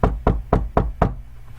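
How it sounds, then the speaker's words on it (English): Five sharp knocks on a plastic laptop casing, evenly spaced about a quarter second apart, close and fairly loud with short hollow decays and no talking. "So I'll just knock on my plastic laptop"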